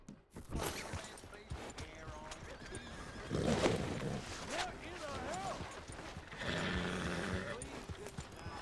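Horse whinnies and hoof clip-clops from the video game Red Dead Redemption 2, with a rising neigh midway and a steady patter of hooves, heard up close.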